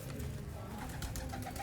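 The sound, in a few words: pigeons cooing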